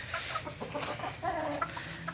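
Chickens and a rooster inside a poultry coop cluck softly and repeatedly, small irregular calls close by over a low background rustle, with no talk.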